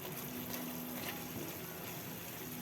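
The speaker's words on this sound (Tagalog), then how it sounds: "nilagyan ko ng tubig para maglambot itong ating karne" Water pours steadily into a cooking pot of sautéed meat with onion, garlic and tomatoes, a continuous soft gushing and filling sound heard alone and fairly faint throughout.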